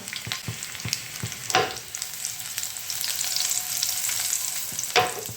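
Chopped garlic, a little cumin powder and mustard seeds tempering in hot oil for a stuffed ridge gourd dish, a steady close sizzle with scattered crackles and two louder spitting bursts.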